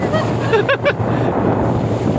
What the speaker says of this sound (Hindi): वो चला रहे हैं बोट को